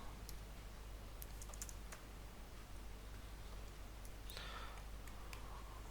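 Fast, uneven keystrokes on a computer keyboard while typing code, with light clicks scattered across a quiet room hum and no talking.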